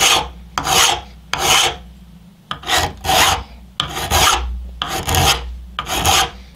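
Hand file sharpening a Mora Bushcraft Forest knife in long, loud, rasping strokes, about eight back-and-forth passes in an even rhythm, each a harsh scraping burst with short pauses between, close and alone.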